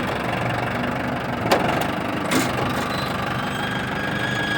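A tractor engine runs steadily at a low idle while pulling the motor out of a junked Honda CR-V, with a couple of brief metallic knocks; close, continuous and without speech.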